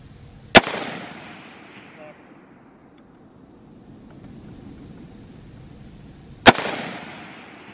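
Two sharp, loud rifle shots from bullpup rifles at an outdoor range, spaced about six seconds apart, each followed by a long rolling echo; a quiet gap lies between them.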